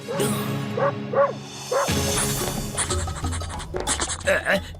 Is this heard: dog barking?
yes